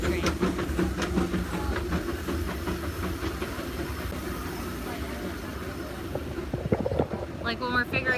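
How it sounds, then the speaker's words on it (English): A train rolls past at Disneyland with a steady low rumble and rhythmic clatter of wheels, close by and continuous, joined by a brief hiss and squeal near the end. "hold on, we'll tell you after the train"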